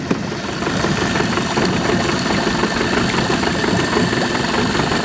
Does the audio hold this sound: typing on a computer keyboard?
no